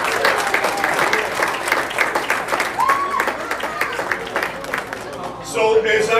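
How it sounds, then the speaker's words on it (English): Audience applause at a Rochester media holiday luncheon, a steady wash of clapping from a seated crowd lasting most of the stretch, with a brief voice and rising talk near the end as it winds down. "If you could, I would appreciate a round of applause for Don and Joel."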